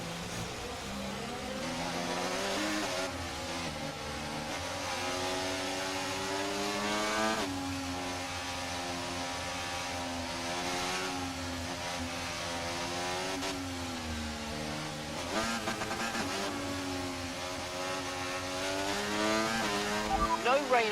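Formula 1 race car engine in the F1 24 video game, a continuous high-pitched whine rising and falling through gear changes over about twenty seconds, with revs held fairly moderate and steady throughout.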